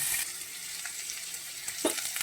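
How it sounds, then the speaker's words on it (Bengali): Diced papaya sautéing in a hot pan for a papaya and chana dal curry, a continuous close sizzle with occasional stirring scrapes, no voices. "এরপর আমি দিয়ে দিলাম পেঁপে আর এটাকে আমি একটু ভালোভাবে কষিয়ে নেব"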